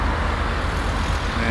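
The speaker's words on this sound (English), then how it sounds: "You can probably hear the traffic in the background" Steady traffic roar in Kiel rises from the streets below a hotel roof car park, a continuous loud wash of road noise with no clear individual vehicles.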